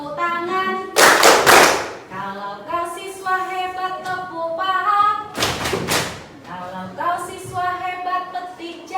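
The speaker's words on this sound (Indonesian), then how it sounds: "Kalau kau siswa hebat tepuk tangan. Kalau kau siswa hebat tepuk paha." Students in a classroom chant together while clapping hands and slapping thighs, with two bursts of loud rhythmic clapping and slapping breaking through the sung chant of voices.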